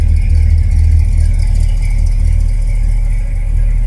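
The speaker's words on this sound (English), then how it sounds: "I'm gonna let it warm up" A Ford Galaxie 500 engine idles loud and close while warming up, a steady, deep rumble with an even throb and no voices.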